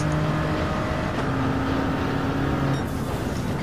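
A race car engine in Gran Turismo 7 on the Sainte-Croix circuit drones loud and close with steady, shifting pitch as the car pushes forward through a chicane, with no talk over it.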